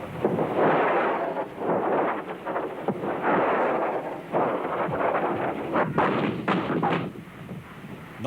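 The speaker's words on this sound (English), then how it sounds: "barrages from more conventional artillery" Conventional artillery barrage during the Iraq war: a dense, continuous roll of heavy booms and rumbling blasts that overlap into a loud, sustained thunder with no pauses.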